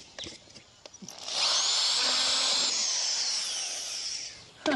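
A smaller drill bit bores through the wooden panel of a nest box for birds, a steady whining grind lasting a few seconds at close range, preceded by light handling knocks.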